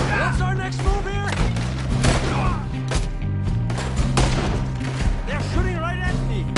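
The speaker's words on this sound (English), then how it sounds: "They're shooting right at me." Enemy gunfire in Red Dead Redemption II, a dense run of sharp shots cracking over a tense musical score, with voices talking over it throughout.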